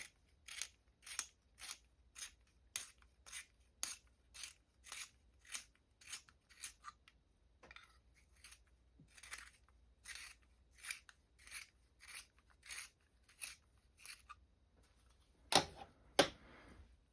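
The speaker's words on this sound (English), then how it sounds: "I need to sharpen my red pencil." A red colored pencil is sharpened in a series of rhythmic scraping grinds, about a dozen and a half close strokes in a quiet room, with a pause midway and two louder rasps near the end.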